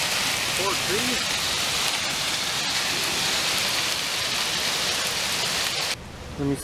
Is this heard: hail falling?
yes